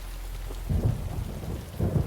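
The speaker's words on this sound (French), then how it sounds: "même la pluie s'en mêle" Thunderstorm with steady rain, deep thunder rumbles rolling in twice, loud and close, with continuous rainfall beneath and no voices.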